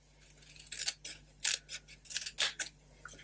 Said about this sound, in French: je viens avec mes ciseaux, je viens enlever